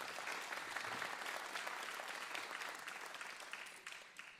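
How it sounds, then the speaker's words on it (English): A live audience at a kids' show claps in sustained applause, a dense, even patter that tapers slightly toward the end. "Give them a big round of applause."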